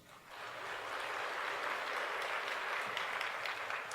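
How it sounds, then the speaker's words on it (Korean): A church congregation gives a grateful round of applause during a Sunday sermon, a steady, dense wash of clapping that swells in the first moment and holds at moderate level. "우리 하나님 앞에 감사 박수입니다"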